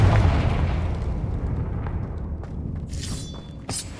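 Confringo spell explosion in the Hogwarts Legacy video game, a booming blast at the start fading into rumble, followed by faint crackling and a few brief bright shattering bursts near the end.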